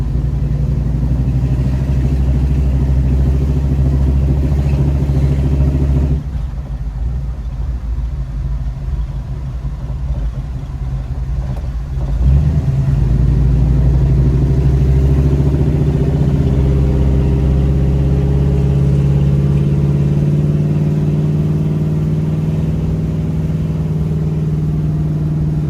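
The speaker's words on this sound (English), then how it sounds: "So we're going to take this for a quick spin around our building real quick and show you guys how it drives." A 1937 Ford panel van driving around a building, its engine droning loudly and steadily, easing off midway and then pulling again with rising revs.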